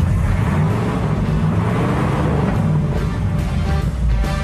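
A Cadillac 331 cubic inch V8 rumbles steadily at close range, a loud, low, continuous engine note with slight swells and no break throughout.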